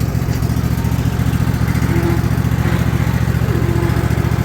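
A Cub Cadet ZT1 zero-turn mower with a 54-inch deck has its engine running loud and close, a steady, throbbing small-engine drone at constant speed with no talk over it.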